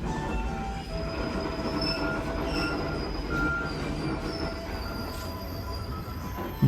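Trains at Huanchac station in Cusco, Peru, on a narrow-gauge line, rumble along with a steady low roar and intermittent high metallic wheel squeals, close and continuous throughout, with no talking.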